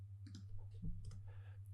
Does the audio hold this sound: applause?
no